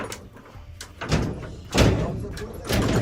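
Someone bangs hard on a door trying to break it open, giving several heavy thuds spaced irregularly over a few seconds.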